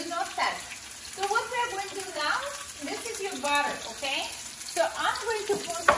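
A steak sizzles in a pan on high heat with butter, a soft continuous frying hiss with stirring noises running under a person talking throughout.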